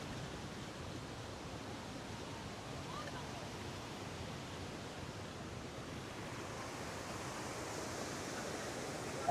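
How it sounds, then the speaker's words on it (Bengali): Usri Falls in full monsoon flow gives off a steady, broad roar of rushing water, even and unbroken throughout, at moderate distance. "আমি লিটারেলি মানে উশ্রী ফলসের পুরো একদম সামনে দাঁড়িয়ে আছি"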